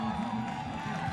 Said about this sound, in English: he can hear the crowd cheering